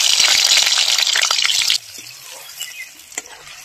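Paneer frying in hot oil in a kadhai on a stove: a loud, close hissing sizzle for about two seconds that abruptly drops to a faint simmer with a few soft clinks.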